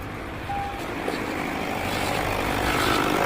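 A diesel engine idles steadily after a fuel filter change, a constant broadband drone that grows slightly louder over a few seconds with no pauses.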